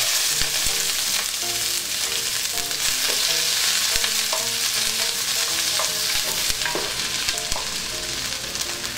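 Onions sautéing in hot cooking oil in a pot for seafood pancit canton, a steady loud sizzle with frequent scraping and clinking of a utensil stirring, close and continuous.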